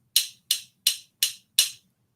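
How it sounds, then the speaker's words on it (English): Five crisp clacks from homemade castanets made with glue, evenly timed, each bright and brief with a quick decay, played close by in an otherwise quiet room. "And the one created with glue, and it sounds like this."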